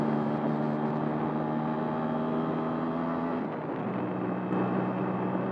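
A Kawasaki B1 125 motorcycle in third gear climbs a hill at about 40 km/h, its single engine holding a steady, close droning hum that dips briefly partway through and then carries on.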